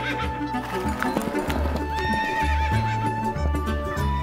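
A horse neighs and hooves clip-clop, sounding like a toy farm animal's sound effect, with steady layered tones underneath throughout.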